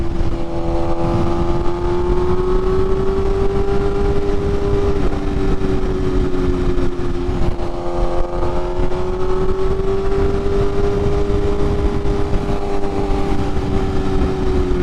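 A BMW S1000RR motorcycle rides through road traffic with a loud, steady engine drone that rises and dips slightly in pitch, heavy wind roar throughout and no voices.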